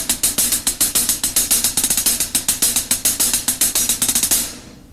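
Five-stroke rolls played on a hi-hat in a rapid, even stream of crisp, bright metallic strokes, close and loud, ending with a short decay.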